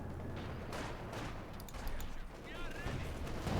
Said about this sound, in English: opening up for suppressor fire